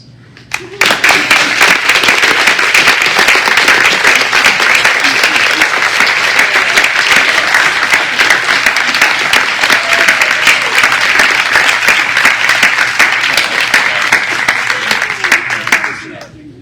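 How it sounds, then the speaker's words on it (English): Audience applause at a medical residency white coat ceremony, a large room of hands clapping loudly and steadily for about fifteen seconds, starting abruptly and tapering at the end. "Please stand and let us give them a astounding round of applause."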